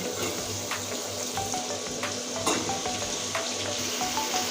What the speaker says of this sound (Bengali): এখানে আছে লাউ এই লাউটা এখন দিয়ে দিচ্ছি